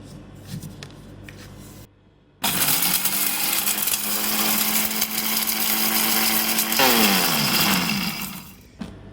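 An electric chopper grinds spices for chicken nihari, whirring loudly and steadily for about six seconds after a brief pause, then winding down as the motor stops.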